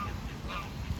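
Geese honking as they are fed, a steady dense clamor of low calls close by, continuous and fairly loud, with faint talk barely present.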